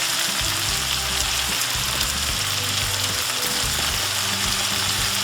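Flat iron steak stir fry with green onions tossed in, sizzling loudly and steadily in a hot pan, a close, continuous crackling hiss with a low cooking hum underneath.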